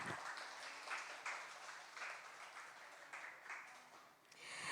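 An audience applauds at an orchestra concert, with steady, moderately distant clapping that fades toward the end.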